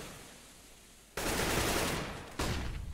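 AK rifle gunfire in Counter-Strike on the Inferno map, two loud sudden bursts of rapid shots cutting in over quiet background, close and harsh.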